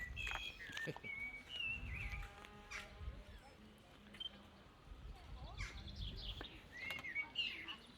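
Birds chirp and trill intermittently at a distance outdoors, with faint low rustling and background noise underneath.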